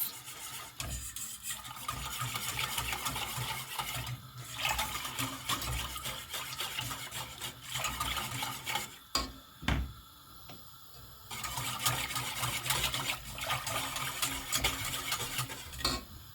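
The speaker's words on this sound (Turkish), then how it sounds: "Şimdi içine 2 yemek kaşığı kadar granül kahvemi ilave ediyorum. Karıştırıyoruz." A spoon stirring granulated instant coffee into a coffee cake batter in a bowl, a steady soft scraping swirl that continues at moderate loudness with brief pauses and a few clinks.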